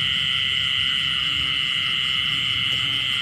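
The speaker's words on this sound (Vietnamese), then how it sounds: "Giờ mình nghe ếch kêu quá trời luôn nè." Frogs calling in a flooded rice field at night during early rainy-season mating, a dense continuous chorus with a steady high trill and low croaks, loud and unbroken throughout.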